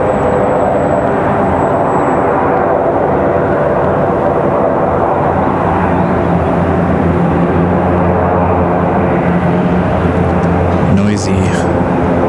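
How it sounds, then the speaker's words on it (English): Airbus A220 airliner at Raleigh Durham airport, a loud, steady jet engine roar with a faint high whine, continuous and close throughout, with talking over it. "As the A220 sings to us."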